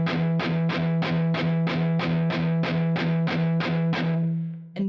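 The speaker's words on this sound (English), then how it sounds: "we want to hit both strings with a downstroke, just considerably loud if you like" Distorted electric guitar chugging a power chord with steady even downstrokes in eighth notes, a heavy riff, about a dozen loud strummed hits in a row before a brief pause.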